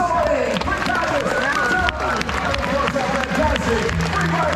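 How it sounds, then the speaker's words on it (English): Crowd applause at Australia Zoo for a presenter named Zoe, clapping mixed with cheering and a loud nearby voice talking over it throughout. "How about a big round of applause for Zoe?"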